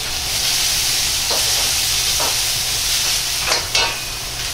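Ginger, green peppers and bamboo shoots stir-fry in hot oil in a pan for green pepper steak, a loud continuous sizzle with a few brief bursts of scraping and tossing.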